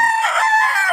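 A mature rooster of about three to four years, one of a breeder's birds, crows once in a loud, sustained call that fills the whole second, close to the listener with no talking over it.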